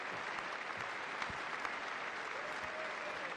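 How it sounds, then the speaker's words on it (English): An audience claps in a steady, dense round of applause at a political speech, heard at a moderate distance and holding even throughout with no clear talk. "you even got Alyssa Slotskin up there clapping"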